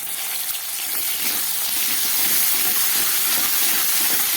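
A constant hissing sizzle of potatoes and ginger paste frying in a pan, close and fairly loud, with a broad steamy rush that holds steady throughout.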